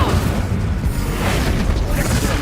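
A fiery Incendio spell blast in Hogwarts Legacy roars as a sustained, loud rumbling whoosh with a booming low end, steady for a couple of seconds.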